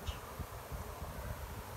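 Honeybees buzz around an opened hive during a spring inspection, a soft continuous drone with faint rustling and wind noise, no talking.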